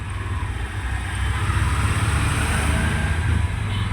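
The engine of a CNG auto-rickshaw rumbles steadily throughout the ride, loud and close, with a continuous low drone and road noise and no voices.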